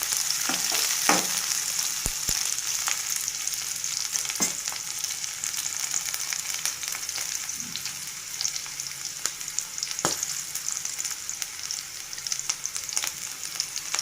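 Onions fry in a pan for a peas snack, a steady close hiss of sizzling oil with a few sharp clicks and scrapes of stirring.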